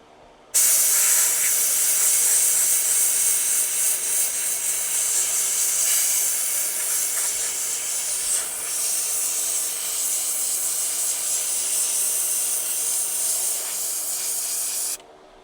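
A Harbor Freight steam cleaner blasting old grease off a car steering wheel hisses loudly and continuously for about fourteen seconds, starting and stopping abruptly.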